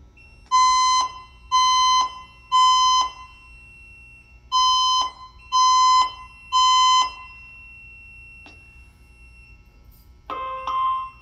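A Silent Knight SK6820EVS fire alarm panel sounds a loud, close electronic tone in two groups of three evenly spaced pulses, followed by a shorter burst of a different alert sound. No voices.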